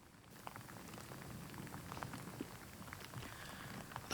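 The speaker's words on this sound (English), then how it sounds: "The pitter-patter of rain on the golf course up on the Northumberland moorland in mid-October." Rain patters steadily on a moorland golf course in Northumberland in mid-October, a soft, even wash of scattered drops that stays low and constant throughout, with no wind to speak of.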